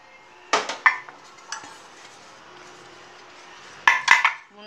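Metal idli plates and utensils clink and knock as lightly oiled idli plates are filled with idli batter, with sharp clatters near the start and a louder cluster of clanks near the end, a quiet stretch of faint pouring between.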